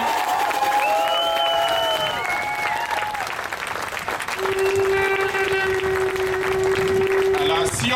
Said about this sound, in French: je pense que vous méritez une bonne main d'applaudissements